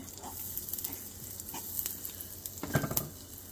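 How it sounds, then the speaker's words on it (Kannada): Oil with cumin seeds and curry leaves sizzles steadily as a tempering in a pan, a close crackling hiss with a few stirring knocks and spatters, no one talking. "ಈಗ ಎಣ್ಣೆ, ಜೀರಿಗೆ ಮತ್ತು ಕರಿಬೇವು ಸೊಪ್ಪು ಹಾಕಿದ್ದೀನಿ, ಒಂಚೂರು ಹಿಂಗೆ ಹಾಕ್ತೀನಿ."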